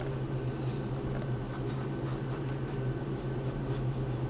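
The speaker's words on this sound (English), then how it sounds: "So I'm just roughly drawing in details." Pencil scratching across paper while sketching details on a fashion flat drawing, a soft continuous scrape with faint repeated light strokes, close and quiet over a steady low hum.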